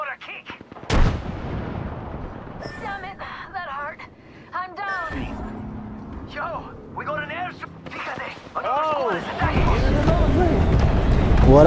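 Gunfire from the Apex Legends battle royale game cracks in sharp bursts, loud and close, alongside game effects while players talk excitedly over it.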